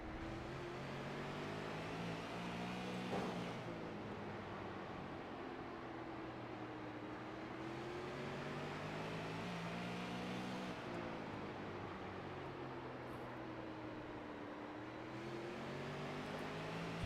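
An onboard sim racing car engine at Hickory in a video game, a continuous droning tone that rises and falls with throttle and gear changes, steady and unbroken throughout.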